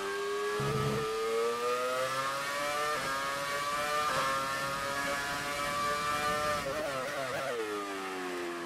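A Formula 1 car in F1 2018 revs hard and steadily, its high engine whine climbing through gear changes with brief dips, loud and close throughout with nobody talking.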